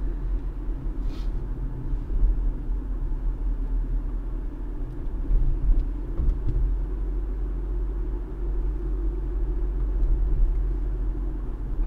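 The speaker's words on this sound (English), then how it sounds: "hear the wind outside" Wind rushes outside a moving car on a driving lesson in Germany, a steady low roar and rumble heard from inside the cabin with slight swells, no talking.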